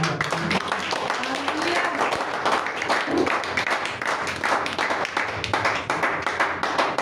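A church congregation claps together during a Sunday school service, a broad wash of applause running steadily throughout with voices mixed in.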